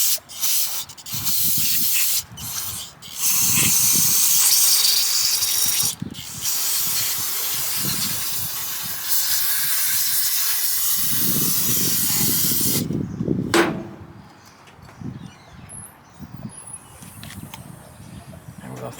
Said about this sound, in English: We're just going to spray off some stuff that's loose now.